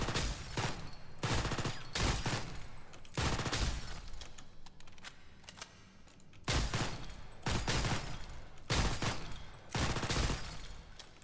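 Rapid bursts of Kriss Vector automatic fire on a shooting range in Ghost in the Shell: Stand Alone Complex First Assault, loud and close, with several sustained volleys broken by brief pauses.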